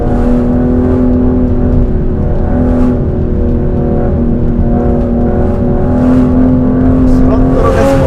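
Aston Martin Vanquish 2025 engine pulling hard on a winding road, a loud steady drone with rising harmonic tones through most of the stretch and a brief lift near the end, heard from inside the car.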